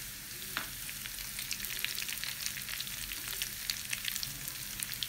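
Green chilies and garlic frying in hot oil for a spinach chicken mince dish, a steady crackling sizzle with scattered pops and a faint scrape of stirring, no voices.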